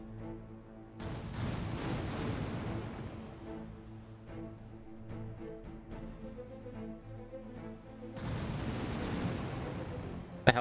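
Ship cannons boom in a naval video game battle against a trade ship, firing broadside off one side. Two heavy volleys land near the start and again near the end, over a steady low sea-like rumble with no speech.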